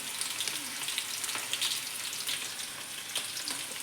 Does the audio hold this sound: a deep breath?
no